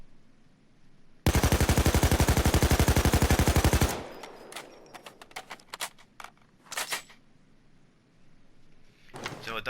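AK5 assault rifle firing a long automatic burst of rapid, evenly spaced loud shots in the video game Payday 2, followed by quieter clicks and handling noises and a couple of short bursts.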